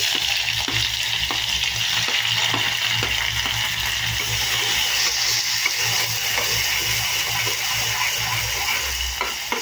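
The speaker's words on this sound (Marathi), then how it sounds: "आणि हा कांदा छानसा परतून घेऊ" Chopped onion sautéing in hot oil with crackled cumin, mustard seeds and red chilies, a steady, close sizzle with scattered stirring scrapes throughout and no talking.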